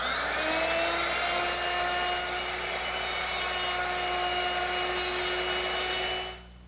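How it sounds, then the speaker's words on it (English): A router fitted with a half-inch mortising bit cuts into wood, holding a high steady whine with a strong tonal hum for several seconds before spinning down at the end; no one speaks. "So I'm just going to use my router, which I've set up with a half-inch mortising bit,"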